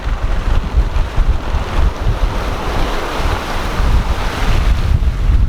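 Strong mountain wind gusts buffet a sailboat under reefed main and jib in the Caribbean Windward Islands, loud roaring wind noise surging and easing over rushing waves along the hull, with no voices.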